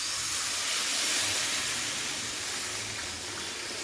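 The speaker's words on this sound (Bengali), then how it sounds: "এবারে দিয়ে দিচ্ছি পরিমাণ মতো জল।" Water poured into a hot pan of katla fish curry with fried potatoes sets off a loud, steady steaming hiss and bubbling that fades a little near the end.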